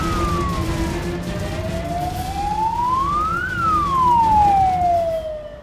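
Police car siren wailing loudly and close during a pursuit, its pitch sweeping up and then down in one long cycle over a steady road rumble.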